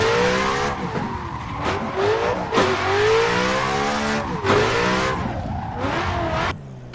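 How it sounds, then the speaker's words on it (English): Race car drifting in a sim racing game played on Asetek SimSports Invicta pedals, loud engine revving and shifting pitch with repeated tire squeals and skids, up close without talk. "So that's enough drifting for now."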